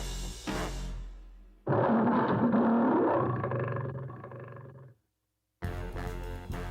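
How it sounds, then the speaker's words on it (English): A loud, drawn-out lion roar swells and slowly fades, preceded by a short burst of sound and followed by silence and then other noise. "The lion roared so loud it knocked Peter right off his chair."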